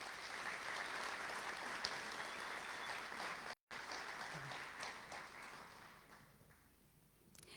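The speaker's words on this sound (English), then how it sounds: "Please continue that applause and congratulate our first round of recipients." Steady applause from an audience at a senior academic awards ceremony, even and continuous clapping that drops out for a moment, then resumes and gradually thins toward the end.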